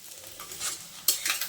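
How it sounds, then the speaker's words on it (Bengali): Egg curry frying dry without water in a pan, a brief close sizzle with a couple of quick scraping stirs. "আর এই রান্নায় আমি পানি দেব না, এইভাবেই ভাজা ভাজা করে রান্নাটা করে নেব।"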